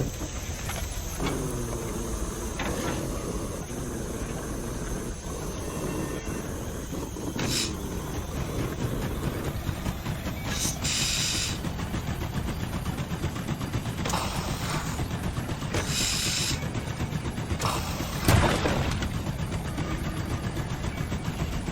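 A train rolls along rail yard track in The Long Dark's Wintermute Episode 5, heading for log obstacles: a steady, loud low rumble with scattered clanks and brief metallic knocks throughout.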